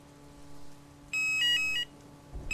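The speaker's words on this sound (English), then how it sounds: "I presume that's the phone." In a horror video game, an electronic phone ringtone chirps in a short warbling burst of about a second, sharp and fairly loud against a quiet background hum.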